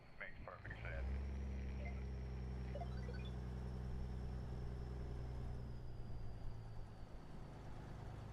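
A steady, low truck engine drone from a trucking video game runs throughout, rumbling continuously with a faint higher whine over it.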